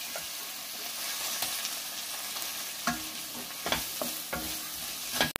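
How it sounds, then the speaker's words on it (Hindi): Onion, ginger-garlic paste, turmeric, salt and onion-garlic masala fry in a pan with a steady sizzle, broken by intermittent scraping taps from stirring. "प्याज और अदरक लहसुन पेस्ट अपना फ्राई हो गया, अभी इसमें हम डालेंगे कांदा लहसुन मसाला, थोड़ी हल्दी, थोड़ा नमक, सब मसाले अभी अच्छे से फ्राई कर लेंगे"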